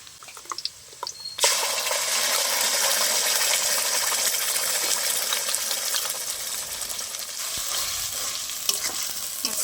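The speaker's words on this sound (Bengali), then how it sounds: "মশলাটা ভালো করে কষিয়ে নেব।" Ground spice paste hits a pan of fried onions with a sudden loud sizzle that settles into steady frying, with clinks and scraping stirs now and then.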